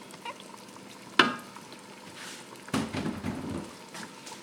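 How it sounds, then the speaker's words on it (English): Pepper and onions frying in a pan for agusi stew, a steady soft sizzle with a sharp clatter near the start and a louder burst of frying partway through. "I have my pepper and my onions frying beautifully"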